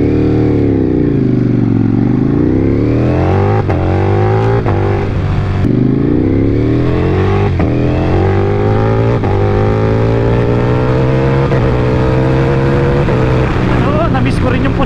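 Ducati Panigale V4S with a 1,103cc V4 engine roaring while riding: a loud, continuous engine note that dips, then climbs and holds high through repeated rising revs and gear changes, close up, with wind noise throughout.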